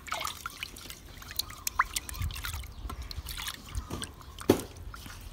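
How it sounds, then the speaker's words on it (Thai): Eggs are washed with plain water, producing close, irregular drips, trickles and small splashes with soft wet handling noises and no talking. "เดี๋ยวล้างไข่ก่อนนะ"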